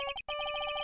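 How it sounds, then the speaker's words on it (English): Electronic phone ringtone from Phoenix Wright: Ace Attorney – Justice for All, a loud repeating warble of bright chirping tones that breaks off briefly after the first bursts, then resumes its steady pattern alone. "Great ringtone there, Phoenix."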